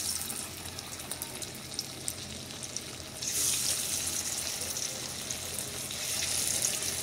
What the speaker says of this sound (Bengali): তেল গরম হয়ে গিয়েছে, এখন মাছগুলো দিয়ে দেব